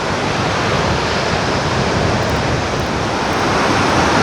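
Long surf breaks along the beach at St. Augustine, Florida, a continuous loud, close wash of roaring water and spray with no pauses and no voices.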